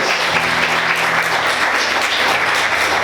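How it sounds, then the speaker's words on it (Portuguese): A church congregation claps steadily in a dense, continuous wash of applause that holds at an even level throughout. "Aplauda Jesus bem forte."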